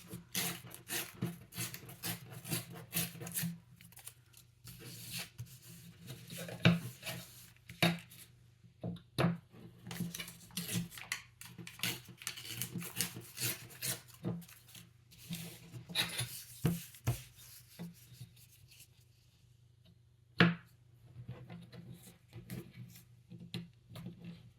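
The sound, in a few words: trimming and folding jelly print papers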